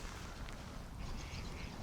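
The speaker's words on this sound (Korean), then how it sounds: "오리들이 엄청 많이 왔어요." Ducks quacking in a flock at a reservoir, steady distant calls blended into broad outdoor background noise with no talk.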